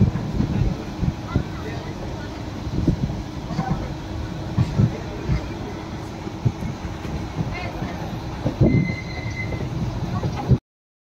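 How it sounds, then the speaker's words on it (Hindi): A moving passenger train in India gives a steady, close rumble with rattling clatter and occasional knocks throughout, under faint background voices. "ट्रेन चल रही है"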